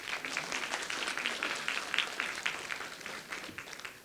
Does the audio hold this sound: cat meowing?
no